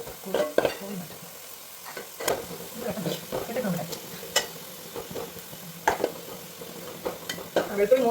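Garlic frying and being stirred in a pan for homemade pineapple pickle, with a steady close sizzle broken by repeated scraping and stirring clicks, alone and without talk.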